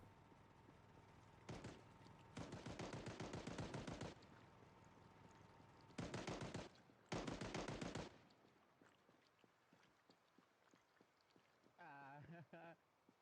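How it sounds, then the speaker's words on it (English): Gunfire in the zombie survival game Project Zomboid, heard as several bursts of rapid automatic shots, some short and some lasting a couple of seconds, set against quiet background noise, with a brief, fainter rattle near the end. "I hear the gunshots."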